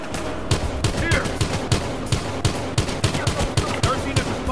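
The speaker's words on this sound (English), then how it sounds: "The pistol and shotgun fire." Rapid, regular gunfire in Battlefield Hardline, pistol and shotgun shots cracking out about three per second for several seconds, loud and close with a dense game backdrop behind them.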